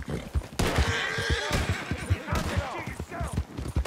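In Red Dead Redemption 2, a horse gives several loud, close whinnies with rising and falling pitch over a steady clip-clop of hooves, while a brief voice is heard in between.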